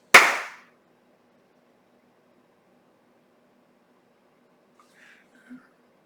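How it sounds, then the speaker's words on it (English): A single sharp hand clap rings out close and loud at the start, its short reverberation fading in a quiet room, followed by long silence and a faint voice sound near the end. "Regardless of what you were thinking when I clapped my hands"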